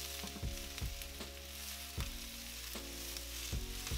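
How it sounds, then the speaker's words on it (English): Vegetables stir-frying over the highest heat for pepper steak give a loud, steady sizzle and crackle, broken by a few sharp scraping stirs spaced through the clip. "So I'm cooking on very high heat."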